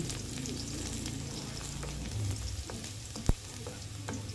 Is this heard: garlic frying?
yes